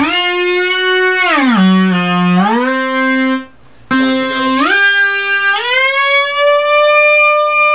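A bright, buzzy note from a restored Memorymoog analog synthesizer, bent by the pitch wheel: it bends downward in pitch, returns, cuts out briefly, then resumes and glides gradually lower and back up.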